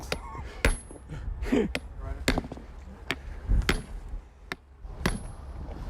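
Sharp metallic strikes ring out at irregular intervals, a hammer hitting stone during stone cutting, with faint voices murmuring between the blows.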